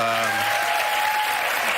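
Studio audience applause on a daytime talk show, a steady, loud wash of clapping filling the whole stretch, with a voice briefly audible at the start.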